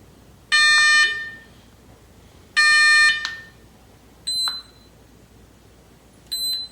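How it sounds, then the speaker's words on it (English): Electronic beeps in a row from a dog behavior corrector: two long, loud buzzy tones followed by two shorter, higher-pitched bleeps, with quiet gaps between them. "these are all the different sounds or noises you can use in your pet training"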